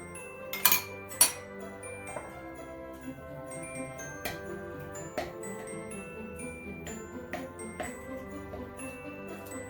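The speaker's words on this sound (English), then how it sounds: "I'm just going to cream it up real good with a spoon" Spoon creaming holiday-treat ingredients in a bowl: clinks and clatters of the spoon against the bowl, two sharp louder knocks near the start, then steadier scraping taps at moderate level with no talk.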